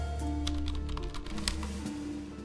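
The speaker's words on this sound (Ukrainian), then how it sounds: "Вау, перша клавіатура в цій грі, в якій є дофіга клавіш." Rapid clicking of a computer keyboard being typed on in the video game Virginia, steady close keystrokes over a low background hum and music.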